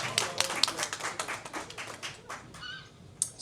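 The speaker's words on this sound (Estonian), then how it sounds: "Aplaus." Concert audience at a Women's Day show claps in a short burst of scattered, fairly quiet applause, with a few taps and a brief squeak near the end.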